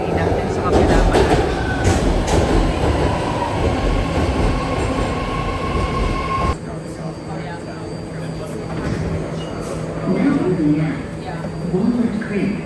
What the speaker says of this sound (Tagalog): Ay, hindi pa pala yan yung train natin sa kabila pala.